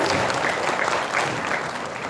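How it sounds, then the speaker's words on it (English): A short burst of dense audience applause, many hands clapping steadily with no pauses. "Please give applause."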